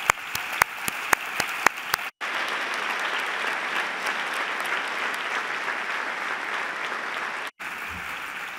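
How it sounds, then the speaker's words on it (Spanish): Sustained audience applause fills a hall during the Levante-EMV 2021 awards gala, steady and dense for several seconds after a few sharp isolated hits, then cuts off abruptly near the end. "yo quiero lanzar un aplauso para todos los miembros de la redacción del"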